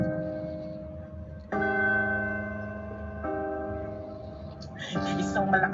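A church bell tolls with long ringing tones, struck several times at a slow pace, resonant and moderately near, with a faint murmur underneath.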